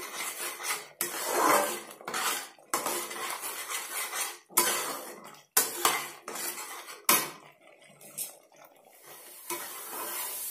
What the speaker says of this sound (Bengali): আমি একদম এটাকে নেড়ে মশলাটাকে কষিয়ে নেব